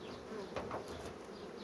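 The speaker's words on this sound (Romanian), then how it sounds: "îi dau drumul la albine să meargă la matcă" Honey bees released from the hive to go to the queen, a close continuous buzzing hum with a few louder passes of individual bees.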